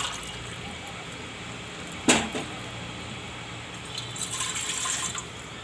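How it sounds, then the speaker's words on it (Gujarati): Water is poured into a pressure cooker on a home kitchen stove, a soft splashing fill after a brief metallic clank, quiet in a still room. "આ આપણે કુકર રાખશું, એમાં આપણે 4 ગ્લાસ પાણી નાખશું બાફવા માટે."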